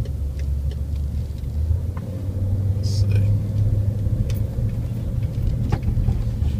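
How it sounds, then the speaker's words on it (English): A BMW X5 SUV rolls through a run-down neighborhood of boarded-up houses, its steady low engine and road rumble close and continuous, with someone talking over it throughout. "I'm driving this X5"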